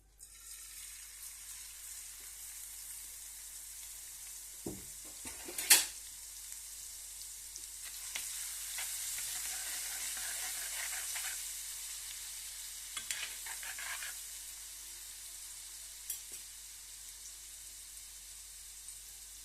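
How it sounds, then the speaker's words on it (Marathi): Cumin-garlic paste sizzles steadily in hot oil in a pan for masala okra, with occasional sharp clinks and scrapes of stirring over the constant frying hiss. "जिरा लसणची पेस्ट ऍड करत आहे"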